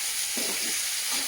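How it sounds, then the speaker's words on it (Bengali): Prawns frying with salt and turmeric in a pan give a steady close sizzle, with brief stirring scrapes over a continuous hiss. "চিংড়িটা একটু ভাজা ভাজা হয়ে গেলে"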